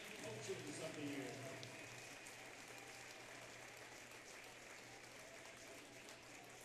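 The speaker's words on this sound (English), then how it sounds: "Please join me with one more round of applause for our NSL Boys Basketball All-Conference Selections" A gym crowd applauds boys basketball all-conference selections at a high school ceremony, a soft, distant, steady patter of clapping that swells briefly at the start and then holds even.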